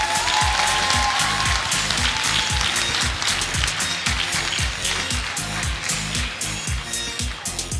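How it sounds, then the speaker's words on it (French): Warm applause greets a lecturer at a master's marketing graduation ceremony, a loud, dense wash of clapping from the audience that holds steady and thins slightly toward the end, with music underneath. "l'applaudir s'il vous plaît"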